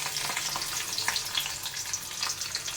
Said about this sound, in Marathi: इथे मी बारीक लसूण कापून ठेवलेला आहे तो टाकूया